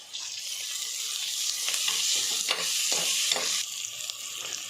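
Onions with ginger-garlic paste fry in a pan, giving a steady close-up sizzle with a few stirring scrapes over nearly five seconds, no voices over it.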